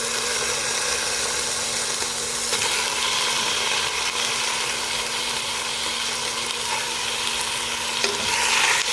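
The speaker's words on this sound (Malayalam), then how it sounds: "ഇനി ഞാൻ ഇതിലേക്ക് ചിക്കനാണ് ചേർത്ത് കൊടുക്കുന്നത്." Chicken pieces sautéing in a hot pan for chicken rice, a continuous loud sizzle with steady frying hiss and occasional stirring scrapes, close up and without talk.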